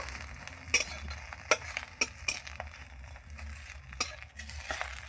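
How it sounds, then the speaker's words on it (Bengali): Egg omelets fry in oil with a steady, close sizzle, broken by several sharp scraping and stirring clicks from a spatula against the pan, with no talk. "একটু তেল দিয়ে দেবো এইভাবে করে ডিমের অমলেটগুলো সব করে নেব"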